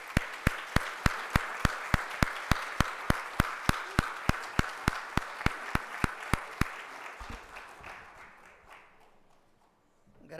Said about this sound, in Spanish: recibimos con un cálido aplauso a ese grande Elis Pérez